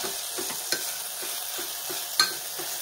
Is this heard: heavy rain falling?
no